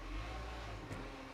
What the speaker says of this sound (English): sorry, that's the garbage truck outside.